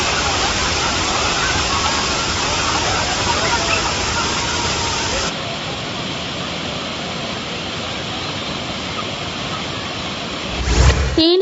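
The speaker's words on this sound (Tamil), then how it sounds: "ஆர்ப்பரித்து கொட்டும் நீரில் ஆனந்த குளியல் போட்டு மகிழ்ந்தனர்." Kumbakkarai waterfall crashing down steadily as tourists bathe beneath it, a loud, continuous broadband roar of falling water that shifts slightly mid-way, with a brief knock near the end.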